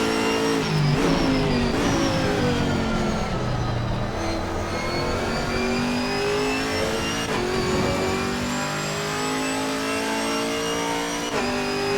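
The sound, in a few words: Chevrolet Camaro GT4 race car engine at Donington Park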